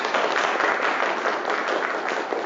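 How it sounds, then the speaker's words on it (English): Audience applause at a forum on Northeast Asian geopolitics, a steady dense wash of clapping from a seated crowd lasting the whole stretch at even loudness. "Let's give him applause."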